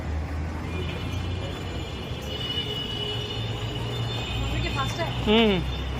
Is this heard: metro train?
yes